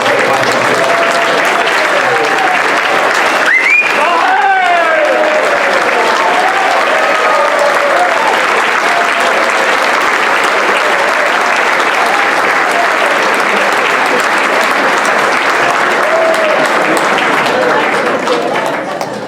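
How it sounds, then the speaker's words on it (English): A dinner crowd at a St. Patrick's Day Foundation event applauds the standing board of directors with loud, sustained clapping filling the room, while voices and whistle-like calls rise briefly over it near the start. "I would like each and every member of the board who are here tonight to please stand up for a round of applause"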